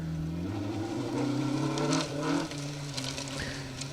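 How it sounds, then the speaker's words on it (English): A Mark 1 Ford Escort rally car driving a gravel stage at the Woodpecker Stages Rally, its engine droning and rising in pitch through gear changes, loud and close, with gravel crackle at the end. "Keep that beautiful Mark 1 Escort looking pristine."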